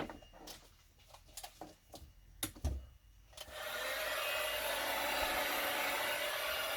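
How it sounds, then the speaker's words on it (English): Heat gun blowing on the seal edge of a BMW E92 headlight, a steady airy whoosh that starts partway through after a few scattered knocks and taps of handling. "We're going to heat around the edge with the heat gun."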